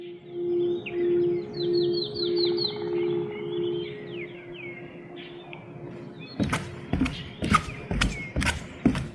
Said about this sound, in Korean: 물소리와 새소리가 마치 음악처럼 들리네요